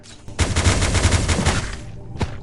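Rapid automatic gunfire from guns in the video game Last Day on Earth, a loud, dense burst of quick repeated shots lasting over a second, followed by a single sharp shot moments later.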